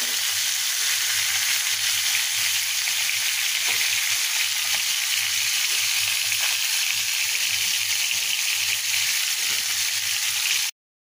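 Rohu fish pieces fry in hot oil in a pan with a steady, dense sizzle that runs unbroken and fairly loud, low pan hum beneath, before cutting off abruptly at the end.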